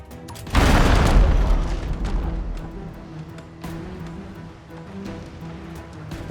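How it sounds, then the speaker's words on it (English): Enemy mortar fire in the naval game Abandon Ship: one heavy boom lands near the start and rumbles down into a long, fading tail with scattered smaller crackles behind it. "Oh, they've got a mortar. Incoming!"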